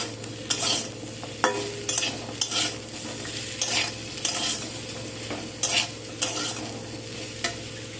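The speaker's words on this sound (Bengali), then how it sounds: "দিয়ে সব কিছুকে একটু ভালো করে নাড়াচাড়া করে নেব" Drumstick vegetables frying with salt in a pan, stirred in repeated scraping strokes over a constant sizzle, close and fairly loud, with no one speaking.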